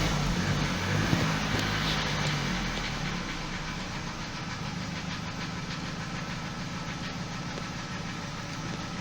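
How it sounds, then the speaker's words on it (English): A Vauxhall Astra 1.4 petrol engine starts and runs at a steady idle. A dense, even engine drone holds throughout at constant loudness. "let's just start the car up"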